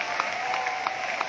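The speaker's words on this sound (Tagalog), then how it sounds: "Grabe po yung palakpak niyo sa Panginoon." A congregation claps in a short burst of applause at a church anniversary gathering in Batangas, a dense, even patter of many hands heard at moderate distance with no voices over it.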